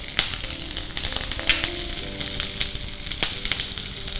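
Curry leaves, mustard seeds and green chili hit hot oil in a pan, making a loud, close sizzle broken by sharp crackles and pops scattered throughout.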